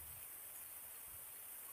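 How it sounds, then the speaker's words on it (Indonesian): Heavy rain pours outside a hut, a steady dense hiss of downpour that stays even throughout, faint low rumbles underneath, no voices. "untuk di luarnya sudah hujan deras sekali"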